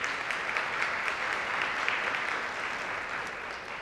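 An audience at a small business day event applauds the small business owners. Steady, dense clapping continues evenly throughout, moderately loud and slightly distant.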